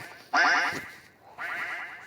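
A duck in the Roblox video game quacks twice, a loud nasal squawk followed after a short pause by a slightly softer second one, crisp and close.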